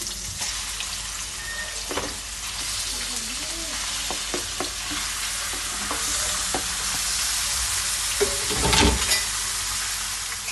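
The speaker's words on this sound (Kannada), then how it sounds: "ಈಗ ಚಿಕನ್ ಹಾಕ್ಕೊತಾ ಇದ್ದೀನಿ" Chicken fries in a pan over fried onions with a continuous sizzle, broken by scattered clinks and stirring scrapes, loudest near the end.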